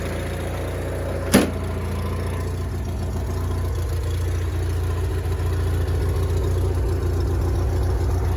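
A car engine idles steadily up close in cold weather, a low continuous rumble with one sharp click near the start and no talking.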